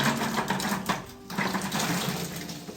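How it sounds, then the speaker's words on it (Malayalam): Running tap water splashing over rose apples as they are rinsed in a sink, a steady close wash with a brief lull in the middle. "2-3 തവണ വെള്ളത്തിൽ നല്ലപോലെ കഴുകിയെടുക്കണം."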